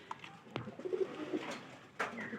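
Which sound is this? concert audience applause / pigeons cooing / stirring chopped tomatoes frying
pigeons cooing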